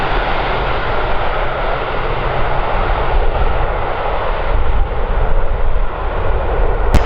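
A jet airliner powers up for takeoff on runway 34 at Kagoshima Airport, a loud continuous engine roar that swells slightly toward the end.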